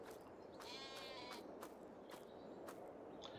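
Sheep in Farming Simulator 22 bleat several times in quick succession, clear and fairly close over a constant low farm ambience, with no talking.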